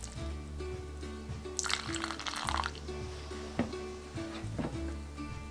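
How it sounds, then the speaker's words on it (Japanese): Hot pasta cooking water poured into a mentaiko, nori and butter sauce, a splashing, gurgling pour over a steady low hum of kitchen background. "でパスタのお湯をこのソースに入れます。"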